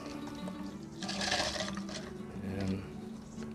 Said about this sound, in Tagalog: ibababad natin ito sa tubig